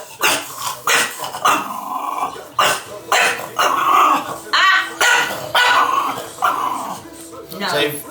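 A bulldog growls and barks aggressively in close, repeated bursts, with people talking over and between the outbursts during a training session.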